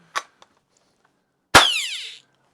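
A Daisy Model 660 Ricochet Rifle, fitted with a replacement ricochet sound box, fires once on a test shot: a sharp crack followed by a bright descending ricochet whine that fades over half a second, preceded by a few small mechanical clicks.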